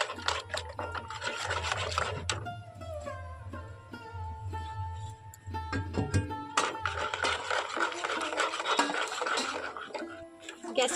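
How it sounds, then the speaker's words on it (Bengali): A spoon scraping and rubbing steadily around a pan as a mixture of flattened rice and gram flour is stirred, a continuous close-up rasping texture with light sizzling underneath. "সেইগুলো এখন অল্প অল্প করে দিতে থাকবো আর অনবরত কিন্তু এইভাবে নাড়াচাড়া করতে হবে"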